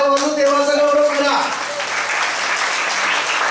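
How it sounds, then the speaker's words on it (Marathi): A church congregation claps hands together in praise, a dense burst of applause that stays steady and fairly loud throughout, with a voice audible near the start. "त्या हाताने टाळ्या वाजवून देवाचा गौरव करा"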